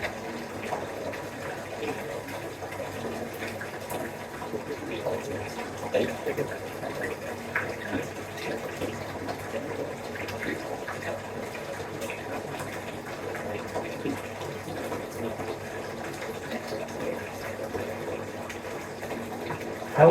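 Water running from a bathtub tap in a steady, moderate gush throughout, with a voice speaking over it.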